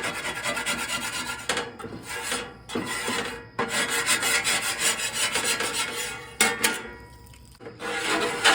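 Metal spatula scraping cooked bits off a hot flat iron griddle, repeated rough rasping strokes in bursts with brief pauses between them, close and fairly loud.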